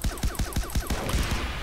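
Suppressed gunfire from a silencer-fitted upgraded weapon in the Far Cry 3 Blood Dragon video game, a rapid rhythmic burst of about eight close, punchy shots followed by a fading noisy tail.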